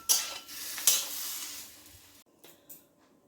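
Yam and shrimp paste with lime juice is stirred in a pan over a gas flame, a scraping, sizzling rasp in two strong strokes that fades, followed by quieter clinks and a near-silent pause, with no talking.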